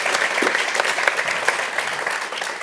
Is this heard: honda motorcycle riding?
no